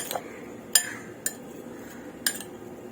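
A spoon clinks against a bowl while bitter gourd slices are mixed with lemon juice, salt and turmeric: three or four sharp metallic taps over quiet scraping and shuffling, close and fairly faint.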